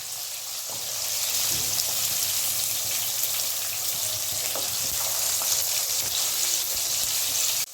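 Pieces of katla fish, lightly fried rather than browned, sizzle steadily in hot oil in a home kitchen, a dense continuous hiss with occasional soft pops and clinks, fairly close and with no talking.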